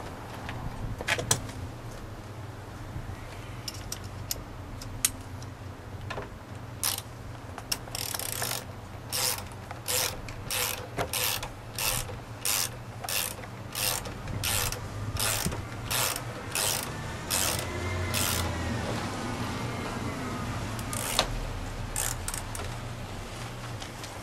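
Tightening the side mirror mounting on a Ford Aerostar produces a long run of close, evenly spaced ratchet clicks, about twenty in a steady rhythm, over a low background hum.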